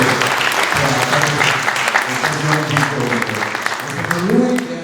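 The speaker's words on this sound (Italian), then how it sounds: "ma prima di me c'è stato Fabiano Zaina, a cui dobbiamo fare un grande applauso" Audience applause at a public commemorative event in San Giorgio di Nogaro, steady dense clapping that holds throughout at a loud, even level.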